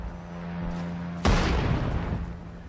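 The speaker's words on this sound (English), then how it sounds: "We can just mortar, and more mortars." A single heavy mortar blast in the wartime strategy game Sudden Strike 4 lands with a sharp boom and rumbling decay, standing out over a low steady battlefield drone.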